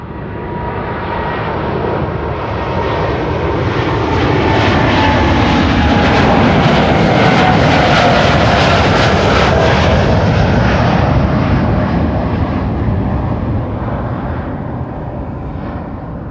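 Boeing 787 Dreamliner departing toward Toronto from a major airport, a powerful jet roar that swells to a peak midway, with a gliding engine whine, then slowly fades as it climbs away.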